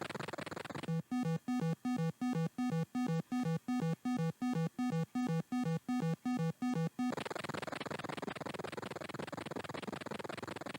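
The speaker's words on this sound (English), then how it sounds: "I suppose that's the sound of you breathing." A rapid run of short, regular synthesized tones, about a dozen evenly spaced pulses, gives a mechanical game-style breathing sound of a diver in the Atari 2600 game Jungle Hunt before giving way to broadband noise.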